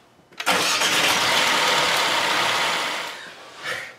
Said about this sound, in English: start the engine and let it run for about 30 seconds or so, maybe a little bit less, with the oil cap on